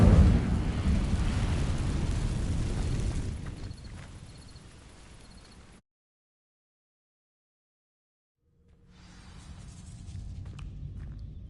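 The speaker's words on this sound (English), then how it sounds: "These dry vines are one spark away from becoming kindling." An Incendio spell sets dry vines ablaze in Hogwarts Legacy, giving a loud roaring, crackling burst of flame that fades over several seconds into silence, then a softer rumbling ambience returns.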